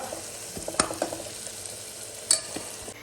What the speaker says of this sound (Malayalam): ഇനി നമുക്ക് ഇതിലേക്ക് കട്ട് ചെയ്ത് വെച്ച വെജിറ്റബിളും കൂടി ചേർത്ത് കൊടുക്കാം